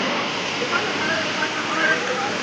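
Hundru waterfall rushing down, a loud continuous broadband roar of falling water close by with no breaks.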